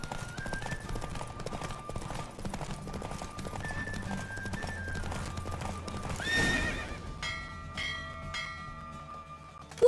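A horse in a video game race clip-clops along at a steady gallop, hooves thudding close while bell-like tones and game music play, and a sharp whinny breaks through near the end.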